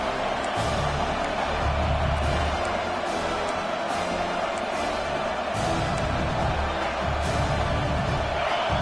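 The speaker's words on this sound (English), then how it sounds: "The roar of the crowd trying to fuel this defense to keep them pinned in their own end." Stadium crowd roaring steadily throughout an American football game as the defense tries to pin the opponent deep in their own end, a loud, dense wash of noise with swelling surges and no clear speech.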